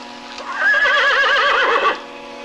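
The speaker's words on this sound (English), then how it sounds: "I got the horses" A horse in a radio drama lets out one loud, close, quavering whinny that rises and wavers for about a second and a half before cutting off, heard alone with no talk.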